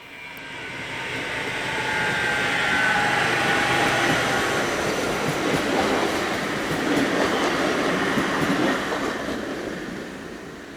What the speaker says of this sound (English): as Unit 312132 arrives with a train for Ljubljana